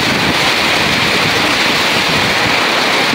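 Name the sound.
very heavy rain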